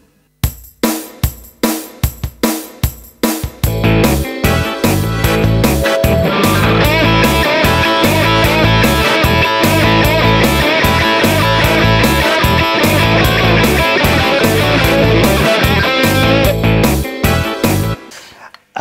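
A rock guitar lick with string bends, played at 150 bpm in steady quavers, loud and close: first sparse picked notes, then a dense, driving stretch of bends and repeated notes, with no talking.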